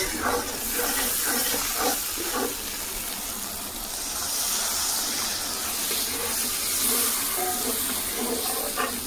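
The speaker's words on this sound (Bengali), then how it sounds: "জল দিয়ে দেবো।" Water is poured into a hot pan of fried spices for a fish curry, giving a loud, steady hissing sizzle that fills the whole stretch, with no talking.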